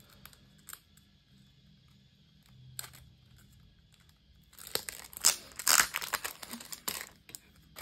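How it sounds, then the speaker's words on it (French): Yellow paper is cut out for a handmade scrapbook card, with soft rustles early on, then a louder run of crisp crinkling and tearing paper noises close by. "Je vais refaire une découpe en jaune pour voir ce que ça donne."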